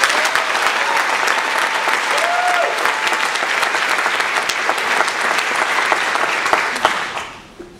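Sustained, dense audience applause at an event for Whitman-Walker Health, steady and loud for about seven seconds before fading out at the end.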